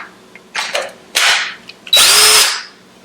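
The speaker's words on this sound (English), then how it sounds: "See, that drill was not working. Turn it on around, turn it on. See if this drill will." A cordless power drill being tested while building a wall-mounted desk, giving several loud whirring bursts of rising and falling speed, the last one long and steady, with short pauses between.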